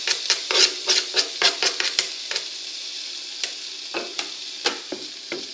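Spoon scraping and stirring fried garlic and parsley in a pan with the heat off, a quick run of sharp clatters and scrapes that slows into sparse knocks, close and without talk.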